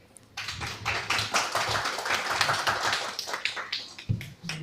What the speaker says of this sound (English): Round of applause for the author.